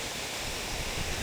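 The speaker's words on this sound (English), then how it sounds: "These waterfalls all along this particular part of the trail" Mountain waterfalls along a hiking trail make a steady, broad rush of falling water, faint and even throughout a short moment with no voices.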